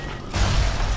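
A shotgun blast in the video game Bioshock, a sudden loud boom that cuts in partway through and leaves a dense, rumbling low-end wash lingering to the end.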